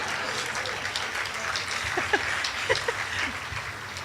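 An audience at an awards ceremony applauds steadily, a wash of moderate clapping with a few voices and whoops rising briefly over it.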